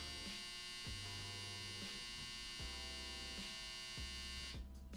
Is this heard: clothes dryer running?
yes